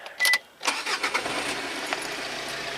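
An HDI diesel car with a previously blocked EGR valve is started: a brief starter whir, a short pause, then the engine catches and settles into a close, even idle.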